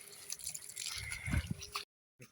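Irrigation water running through a field channel toward sugarcane in Adhaiyur village, heard as close trickling and dripping with a few louder splashy gurgles, then cutting to near silence before a brief return.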